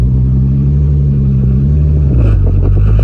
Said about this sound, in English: let's see how much effort it is to pull off the bit